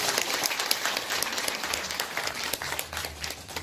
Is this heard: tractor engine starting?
no